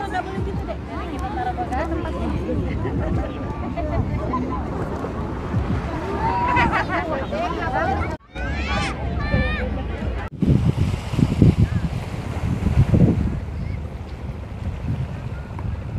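Outdoor ambience at Pasir Putih white sand beach, PIK 2, Indonesia, with wind buffeting the microphone, surf and a boat engine, while people chatter and talk nearby throughout.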